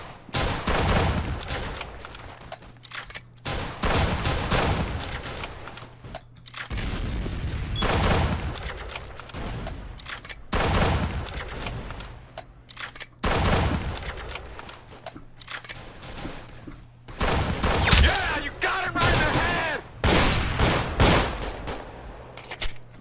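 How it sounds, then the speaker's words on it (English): Double barrel slug shotgun in the Roblox game Arsenal firing repeatedly, heavy booming blasts arriving in bursts over a dense backdrop of other game gunfire, loud and close with no talking. "Number 1, the double barrel slug shotgun."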